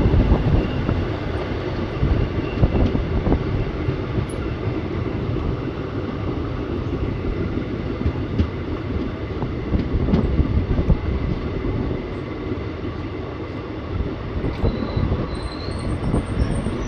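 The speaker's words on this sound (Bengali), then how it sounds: "দুপুর 12টার সময় ট্রেন এসে পৌঁছালো অম্বল গ্রাম স্টেশন" The Ahmadpur–Katwa passenger train, an ICF coach rattling at speed, rumbles along on the rails with a constant loud rolling clatter, occasional clicks and faint wheel squeals from inside the carriage.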